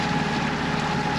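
Inboard engine of a Catalina 42 sailboat running under way on the Sea of Cortez, a loud continuous droning rumble with steady low throb and broadband hiss, no talking.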